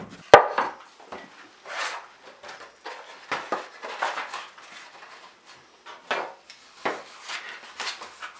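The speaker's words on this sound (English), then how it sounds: "I'll cut a little sliver of the veneer" Thin wood veneer for a scratch-built guitar being cut into a sliver in a workshop, a scattered series of sharp close taps, scrapes and knocks over several seconds, with no one speaking.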